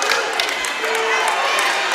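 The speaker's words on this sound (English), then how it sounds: "Clark fans are clapping because of this tee" Clark Montessori fans clap amid crowd noise in a gym during a boys varsity high school basketball game against Summit Country Day, a steady dense din of applause and cheering after a technical foul, with commentary voices over it.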